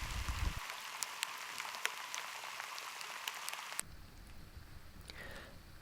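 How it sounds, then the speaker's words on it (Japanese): Sleet-mixed rain falls at Lake Shumarinai in Hokkaido, a steady close hiss of drops with sharp individual taps that thins out partway through. "ぐずついていた天候がみぞれ混じりの雨になった"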